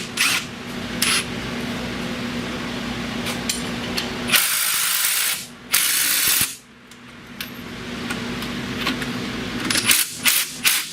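Ratchet clicking as a lower ball joint is tightened on a Chrysler Sebring, bursts of rapid metallic pawl clicks alternating with pauses and small clinks of tools, close and fairly loud in a garage.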